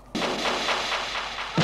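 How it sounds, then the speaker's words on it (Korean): A loud, sustained crackling blast of fireworks, dense and booming, with a fresh burst right at the end. "미리 준비해둔 폭죽이 터지게 만들어"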